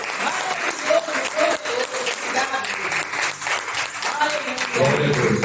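Church congregation clapping steadily together, a dense, continuous wash of applause with a few voices mixed in.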